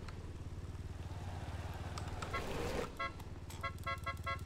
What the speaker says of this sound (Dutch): Dit is toeteren.